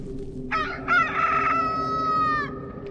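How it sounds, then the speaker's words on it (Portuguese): A rooster crows once, close and loud, a rising harsh call held for about two seconds before trailing off, heard alone over faint background. "o galo cantou."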